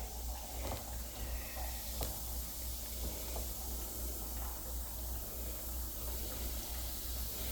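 Baking soda fizzing and hissing in a coffee pot during a deep clean, a steady close, low-level effervescent wash with a few faint clicks, and no voices.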